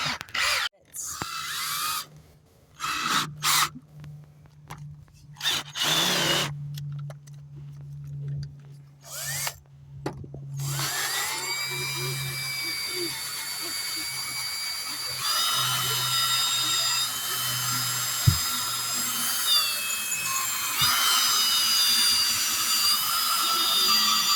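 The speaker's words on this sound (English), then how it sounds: "These are just drill them right out." A power drill bores out small holes while an RV awning is being replaced, running in short stop-start bursts at first, then a long sustained whine at close range with steady high tones.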